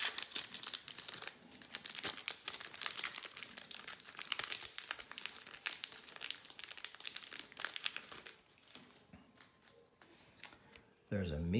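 A 2021 Panini Optic Donruss baseball card pack of four cards is torn open close up. The foil wrapper gives rapid bursts of crinkling and crackling, which thin out toward the end before a short low thump.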